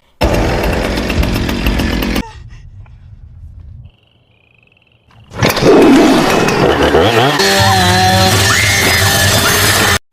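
A chainsaw roars loudly in a film scene, cuts out into a low rumble and then near silence, and returns with heavy revving and a growling, grinding tone.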